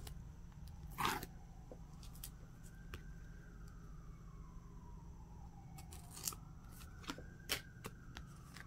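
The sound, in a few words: washi tape being peeled off a K-pop album package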